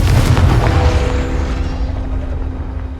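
A Confringo spell explosion in the video game Hogwarts Legacy bursts loudly with a deep, rumbling boom that rolls on and slowly fades over a few seconds.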